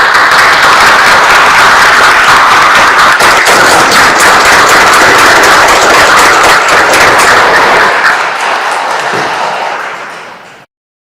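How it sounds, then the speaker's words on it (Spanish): An audience applauds at a lawyers' swearing-in ceremony before the Supreme Court, dense, loud clapping filling the hall steadily before tapering off and stopping near the end. "Aplaudamos vuestro logro."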